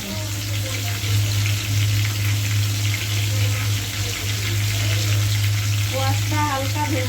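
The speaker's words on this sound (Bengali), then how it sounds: "কোয়াশটা হালকা ভেজে নিয়ে" Squash lightly frying in a pan, a constant close sizzle with a steady hum running beneath it and soft clinks toward the end.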